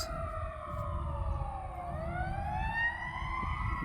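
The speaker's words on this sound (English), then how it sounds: "There goes the sirens." A wailing fire truck siren rises and falls steadily over a low rumble of traffic, sounding moderately distant and continuous.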